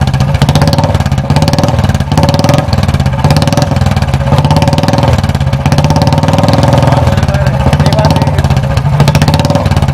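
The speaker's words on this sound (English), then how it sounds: "listen to the sound of an aftermarket silencer" A Royal Enfield Bullet motorcycle fitted with an aftermarket exhaust silencer, idling loud and close with a deep, steady thumping beat and slight revving swells.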